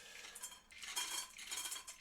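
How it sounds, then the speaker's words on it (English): An automatic cat feeder runs during a 3D printing session, giving faint clinking, rattling sounds like kibble dropping into a dish, in several uneven bursts at low level. "Oh, that's my cat feeder going off."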